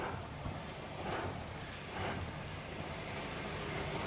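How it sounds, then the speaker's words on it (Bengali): Heavy rain falls outside a cold mountain homestay in Lachen, a dense, even hiss of rainfall that holds steady throughout without voices. "প্রচণ্ড বৃষ্টি হচ্ছে।"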